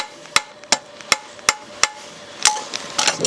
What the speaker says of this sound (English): Heel of my hammer, just working it out.